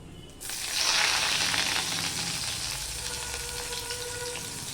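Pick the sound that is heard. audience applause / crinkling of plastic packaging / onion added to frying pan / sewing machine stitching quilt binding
onion added to frying pan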